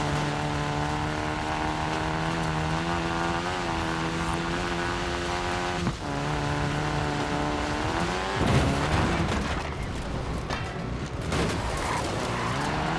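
A propeller aircraft drones steadily overhead during a Forza Horizon 4 car drop, a sustained tonal engine hum that shifts partway through, joined later by a burst of rushing noise and tyre skids.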